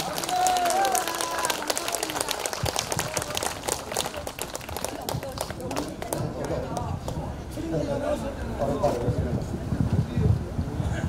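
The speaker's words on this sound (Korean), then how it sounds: "박수 한번 주시기 바랍니다." Scattered outdoor applause and crowd noise at an open-air music concert in Mokpo as guests are introduced on stage, steady clapping spread across the clip with an announcer's voice over it.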